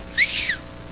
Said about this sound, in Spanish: ahorita no hice sonar bien el silbato